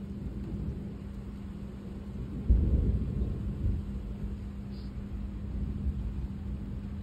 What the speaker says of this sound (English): This is a good storm though.